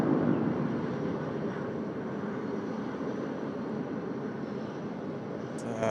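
Qantas flight 12 airliner at Sydney Airport, a steady broadband jet roar with a strong low rumble, continuous and fairly distant, unbroken by speech.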